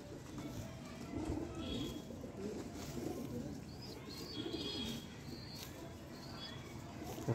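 Pigeons of a pure-bred line kept by a breeder coo softly amid steady background hum and bird chatter, with faint chirps scattered throughout.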